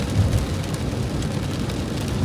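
Heavy rain drums on a car roof and windshield with wipers sweeping, a dense, loud, continuous wash of noise with no speech.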